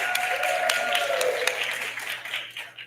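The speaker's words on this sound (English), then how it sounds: "if you guys give them a very quick round of applause" At a council candidate forum, the audience gives a brief round of applause, a dense patter of clapping that fades toward the end.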